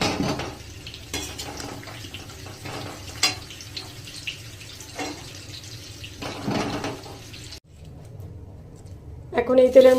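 Fried papaya and potato pieces are lifted out of a pan of hot oil, with scattered metal scrapes and clinks of a utensil against the pan amid kitchen clatter and a brief hiss.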